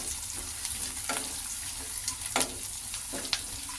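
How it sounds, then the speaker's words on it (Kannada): Cumin seeds and curry leaves frying in a pan with onions, a steady close sizzle with a few sharp crackles and spoon scrapes standing out, no voices. "ಈಗ ಇದನ್ನು ಮತ್ತೆ ಜೀರಿಗೆ ಹಾಕೋತಾ ಇದ್ದೀನಿ ಮತ್ತು ಕರಿಬೇವು ಸೊಪ್ಪು ಇದನ್ನೊಂದು ಫ್ರೈ ಮಾಡ್ಕೊಳ್ಳೋಣ"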